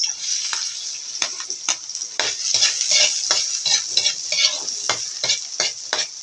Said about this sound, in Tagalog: igigisa na natin yung bawang. Bawang sibuyas.